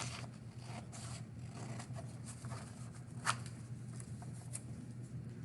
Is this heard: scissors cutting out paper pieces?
yes